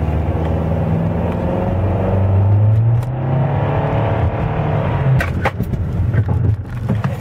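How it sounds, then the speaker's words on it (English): A Nissan car with a CVT accelerates at wide open throttle, the steady engine drone rising in pitch at a close, constant level, with a few clicks and knocks near the end and no talk. "I'm gonna go wide open throttle, see if it happens"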